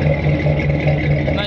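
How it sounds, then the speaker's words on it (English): A 1941 Chevrolet Business Coupe with a new Flowmaster exhaust and polished tips gives a steady, low growling drone that runs nearby and continuously through the short stretch. "Got new Flowmaster exhaust with the polished tips coming out the back."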